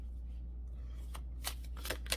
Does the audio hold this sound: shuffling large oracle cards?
yes